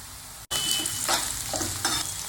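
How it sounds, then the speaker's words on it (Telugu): Onions frying in oil in a pan for a spicy chicken leg curry: after a brief cut of silence, a loud close sizzle starts, broken by several rhythmic scraping stirs of the spatula, with no talking. "ఇలా ఉల్లిపాయ బాగా వేయించుకోవాలి"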